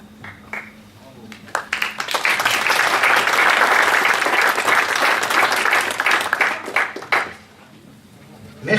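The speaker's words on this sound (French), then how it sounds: "Merci de votre applaudissement" An audience at a lecture on sovereign money in the Swiss constitution breaks into applause, starting from scattered claps and swelling into a full, dense round before thinning out and fading near the end.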